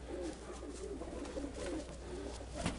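Young pigeons cooing softly in a loft, low repeated throaty coos rolling on and off over faint background noise, no talk.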